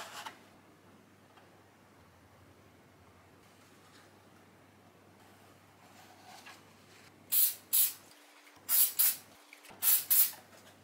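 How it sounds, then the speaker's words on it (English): After a quiet stretch, an aerosol can sprays in several short, loud hissing bursts with brief pauses between them, sealing a 3D-printed model aircraft part. "You just align everything perfectly before you give it that final spray and lock it into place."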